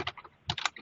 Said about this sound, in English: we're getting computer typing in the background